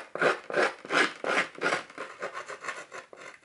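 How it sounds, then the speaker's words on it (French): Scissors blade scrapes rhythmically across paper for card making, about eight rasping strokes, loud and close at first, then lighter and quicker toward the end. "Vous prenez tout simplement votre ciseau comme ceci et vous le grattez"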